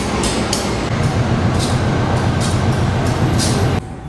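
Diesel locomotive CC 018327 of the Dharmawangsa Express idling close by at a station platform, a loud steady rumbling drone with a pulsing low throb that drops away abruptly near the end.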